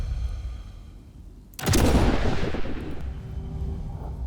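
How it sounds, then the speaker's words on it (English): A single loud sniper rifle shot from the Sniper Elite video game, a sharp crack followed by a long booming echo that slowly decays, with no talking. "Did we just shoot each other at the same time?"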